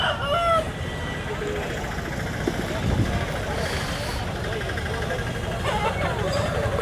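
Roosters crow and hens cluck amid a busy crowd, with constant chatter and background bustle of an outdoor country chicken market in Vizianagaram district, India.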